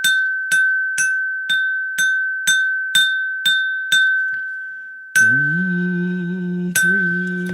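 Glass rings out eight times in an even rhythm, each ding bright and decaying, followed by a longer sustained ringing tone with a lower hum, loud and close.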